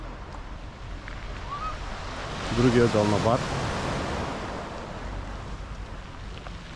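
Modest sea waves wash onto a big, calm beach with clear water at Bar, Montenegro, a steady broadband surf hiss running throughout while someone speaks briefly in the middle.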